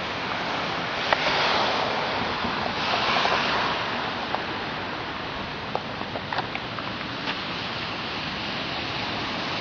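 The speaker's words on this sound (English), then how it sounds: "All that water collecting. It's going down this little river stream area." Rainwater collected into a small stream rushes and splashes outdoors in a steady, continuous wash of noise with occasional faint ticks and drops, close to the microphone and without talk.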